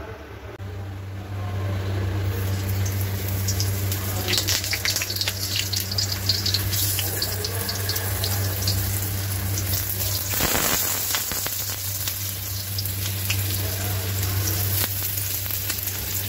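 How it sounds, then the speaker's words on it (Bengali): Potatoes and onions frying in mustard oil in a hot pan make a loud, continuous sizzle close up, with a brief stir-like rustle partway through and no talk. "সর্ষের তেলের মধ্যে আলু আর পেঁয়াজটাকে একটু ভেজে নেব।"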